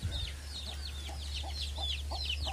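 Desi chicken chicks peep in a steady stream of high chirps, with faint clucking underneath and a constant low hum running throughout.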